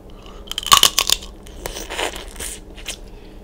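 Close, crisp crunching and tearing as someone bites into and chews crab shell, a cluster of sharp cracks early then softer chewing crunches.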